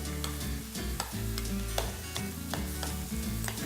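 Cashews and almonds are stirred into leftover butter in a hot pan, a steady sizzle broken by repeated scraping clicks of a utensil against the pan at an uneven rhythm, close and without talk.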